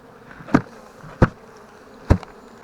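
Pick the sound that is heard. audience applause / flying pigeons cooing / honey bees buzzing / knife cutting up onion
honey bees buzzing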